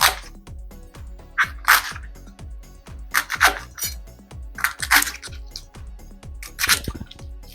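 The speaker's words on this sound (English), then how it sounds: "Then take your knife and cut them." A knife slices through rolled-up collard greens on a board in quick, regular strokes, each a dull close thump, with a few brighter clatters of the blade mixed in and no voices.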